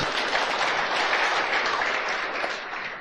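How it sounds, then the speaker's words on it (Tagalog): A congregation applauds during an Ilocano preaching service, a thick continuous wash of clapping from many people, steady and fairly loud for the whole stretch before tapering slightly at the end. "Palakpak kini Jesus"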